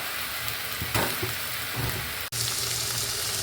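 Sliced okra stir-frying in a pan over a medium flame makes a dense, continuous sizzle with a few soft stirring bumps and a sudden momentary cutout.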